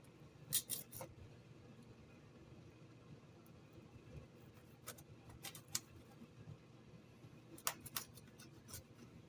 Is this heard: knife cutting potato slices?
yes